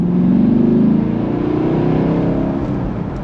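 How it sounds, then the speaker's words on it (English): A 2020 Chevrolet Camaro SS 1LE with a 6-speed manual accelerates hard on the road, its loud, close engine note building and climbing in pitch without a break. "We're gonna give it a pretty good acceleration."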